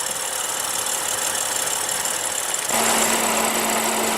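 A 2015 BMW 535i with a 3.0-litre inline six-cylinder turbo engine runs at a steady, smooth drone under constant broadband road and wind noise. Partway through, the sound brightens and a faint steady hum rises in.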